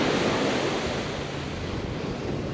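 Ocean waves breaking on an Ocean City, Maryland beach during evening surf fishing, a loud, unbroken roar of surf mixed with wind buffeting the microphone and no voices.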